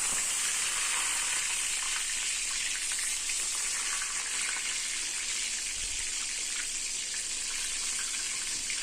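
Brinjal pieces fry in hot oil over a medium gas flame, giving a steady, bright sizzle that stays loud and continuous throughout, with no talking.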